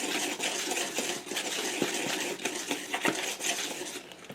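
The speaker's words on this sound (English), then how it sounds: "I'm going to add some salt and some baking powder to the flour mixture, and I'm just going to mix it together" Flour being mixed with salt and baking powder in a bowl, a continuous scraping and tapping of a utensil against the dish with irregular clinks, close and moderately loud, no talking.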